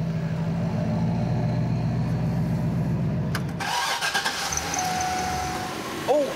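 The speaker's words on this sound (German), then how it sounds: "Kannst du den Motor noch mal anmachen?" A bus engine cranks and fires in a workshop, a steady low diesel rumble giving way to a catch and start, then running unevenly near the microphone with some clatter and handling noise afterward.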